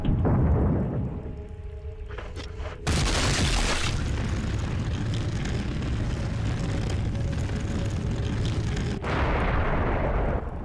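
Grenade launcher explosions in Resident Evil HD Remaster, a sudden heavy boom followed by a sustained loud rumbling roar that runs for several seconds, then a second blast near the end, with faint tonal game sounds before.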